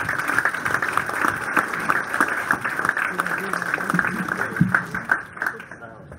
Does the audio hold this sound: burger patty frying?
no